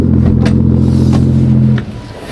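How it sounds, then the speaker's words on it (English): Idling 2014 Aston Martin V12 Vanquish exhaust, a loud steady low rumble close by with a few clattery ticks, its drone cutting off near the end. "Listen to the starter motor and the exhaust sound."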